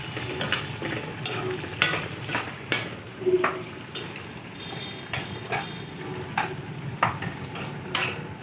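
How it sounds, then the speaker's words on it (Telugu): Dried prawns stir-fry in hot oil for a tempering, with a soft continuous sizzle broken by repeated spatula scrapes and clinks against the pan, close and moderately quiet, no voices. "ఎండు రొయ్యలు కూడా ఈ తాలింపులో వేసి వేపుతున్నారు"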